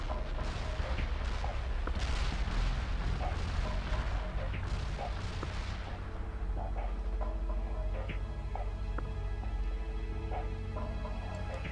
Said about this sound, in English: We're bombarding the target area.